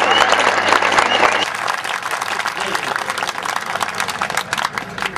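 Audience clapping at a Hindi kavi sammelan poetry recital, loud and continuous, fading slightly after a brief voice at the start.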